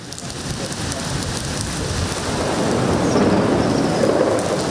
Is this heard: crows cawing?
no